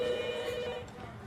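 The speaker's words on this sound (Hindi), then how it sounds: "जाकर फोन उठाओ बेटा।" A telephone bell ringing steadily, a bright trilling tone that fades slightly toward the end, with faint background noise.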